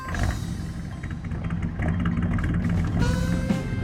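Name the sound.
Chevy Stepside pickup engine revving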